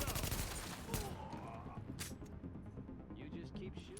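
Rapid gunfire rattles continuously in The Division video game, dense overlapping bursts forming a loud, steady barrage that runs through the whole stretch, with voices heard in the mix.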